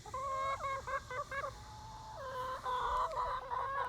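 Backyard hens cluck and squawk in quick, rising calls, several birds close together, with no talk over them.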